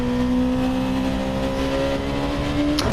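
Honda NSX Type R engine in a racing video game, a sustained high engine tone climbing slowly through the gears on a straight, with a sudden shift break near the end.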